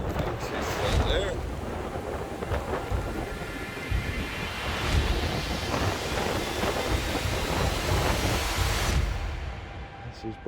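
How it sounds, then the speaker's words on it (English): Strong wind roars over churning water with splashing waves and deep rumbles, loud and continuous, while a voice speaks faintly beneath the storm. "Storm's meant to blow through by tomorrow night."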